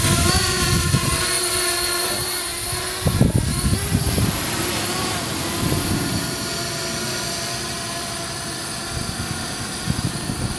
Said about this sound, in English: So here now I can fly the drone